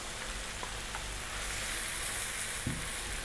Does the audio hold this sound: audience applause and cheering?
no